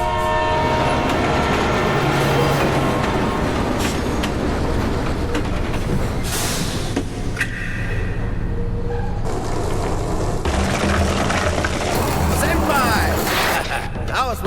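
Train ride in the video game Let It Die: continuous loud rolling rail noise with clattering wheels and horn blasts throughout, close and dense.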